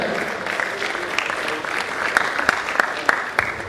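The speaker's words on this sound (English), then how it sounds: "So also a round of applause for Professor Ajayi" Applause from an audience in a medical college's scientific conference plenary session, a steady dense patter of many hands with a few sharper, louder claps standing out near the end.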